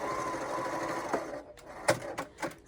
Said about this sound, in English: you sew your strips together